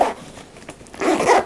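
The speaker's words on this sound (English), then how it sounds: "Double zipper." A double zipper on a roomy TAKEYA pickleball bag is pulled open in two quick scratchy runs, a short rasp at the start and a longer one near the end, close to the mic with no talking.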